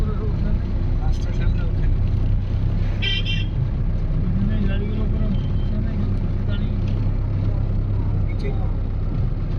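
A car climbs the hill road of Ayodhya Hills, its engine a steady low drone throughout, with a brief horn toot and people chatting over the ride.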